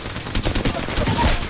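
Rapid bursts of automatic gunfire in the video game Apex Legends, close and loud, with dense repeated shots packed into a short, intense stretch and a brief voice over them.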